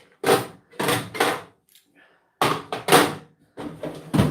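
Loud clunks and bangs come from objects being handled on top of a set of metal drawers, in several separate bursts with short pauses between them, close and sharp.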